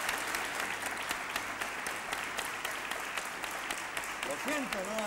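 Studio audience on a 1980 Spanish television game show applauds steadily and fairly faintly, a dense patter of clapping throughout, with a brief voice breaking in near the end.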